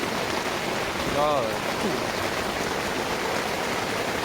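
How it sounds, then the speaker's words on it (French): Heavy rain pours steadily through a night thunderstorm at a carp-fishing competition lake, a dense continuous hiss filling the whole stretch, with a brief spoken word near the start. "Entre l'orage et la pluie qui tombe à saut."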